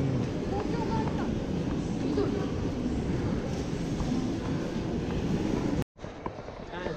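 A Ginza Line subway train in Japan rumbles and hums steadily as it moves off, with a voice heard faintly in the background before the sound cuts out abruptly.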